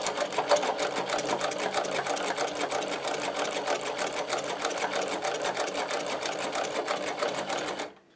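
A Podolsk sewing machine fitted with a servo motor stitches leather in a fast, even run of rapid needle strokes that continues for several seconds, then stops abruptly.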